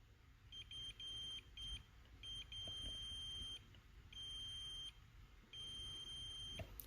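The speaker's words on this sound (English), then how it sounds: "you should hear the multimeter, so I'll shut my trap here so you can hear the multimeter when I make contact" Repeated high-pitched continuity beeps from a multimeter sound in bursts of roughly a second as probes touch solder joints on switch ground wires during a Gary Morris Samurai lightsaber hilt install, steady tones over faint room hum.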